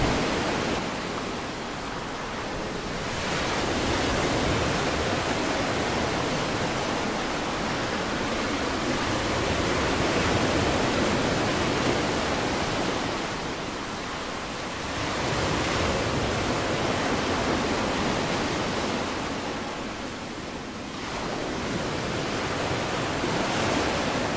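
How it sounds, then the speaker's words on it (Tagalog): Rough sea waves break and surge in long, loud, rolling swells, each wash rising and then easing before the next, heard at a fishing spot with no voices. "Talaga hong malakas ang dagat ngayon."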